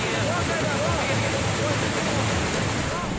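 A steady, heavy rushing roar of muddy floodwater after a cloudburst in Kargil, dense and unbroken, like a torrent pouring past nearby.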